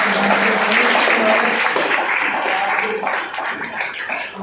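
An audience at a Model UN conference applauds the chief guest on stage, with sustained, fairly loud crowd clapping that tapers slightly toward the end, a voice faintly underneath.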